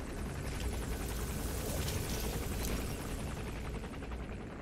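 Helicopter in the video game Metal Gear Solid V: The Phantom Pain, a steady rotor thrum with rapid bursts of gunfire over it, loud and continuous.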